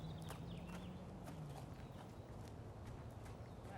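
Horse's hooves walking during groundwork training, soft irregular clip-clop steps under a steady low background rumble, moderately close and faint.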